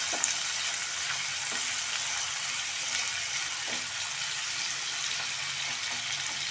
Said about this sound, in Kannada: ಒಂದೇ ಒಂದು ಅರ್ಧ ನಿಮಿಷ ಬಿಟ್ಟರೆ ಟೊಮಟ ಈರುಳ್ಳಿ ಫ್ರೈ ಆಗುತ್ತೆ